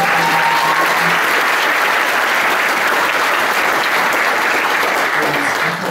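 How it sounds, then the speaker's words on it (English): Loud, sustained audience applause at a school senior prize giving, thick continuous clapping that fills the room throughout with only faint voices beneath it. "can you give a round of applause,"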